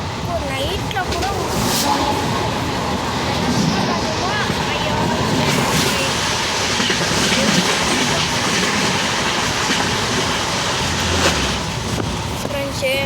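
A train carriage in motion gives a loud, constant roar and clatter of wheels and wind, with voices talking underneath the noise throughout.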